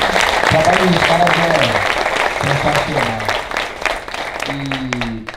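Audience applause for the Creative team at a Poder event, clapping running beneath a voice that talks over much of it.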